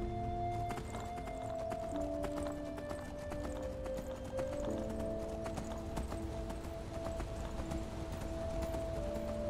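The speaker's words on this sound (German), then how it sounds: "Da ist mein Esel." Horse hooves clip-clopping steadily in the fantasy video game Enderal, a continuous rhythmic trot at moderate volume with game music playing underneath.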